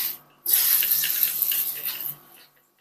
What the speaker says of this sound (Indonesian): Jadi lakukan penyemprotan pada belakang daun.